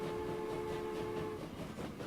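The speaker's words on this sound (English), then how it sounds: "Listen to that whistle." A steam locomotive whistle in the Transport Fever game sounds as a steady, moderately faint tone lasting over a second over rumbling train noise, then cuts off while the rolling rumble continues.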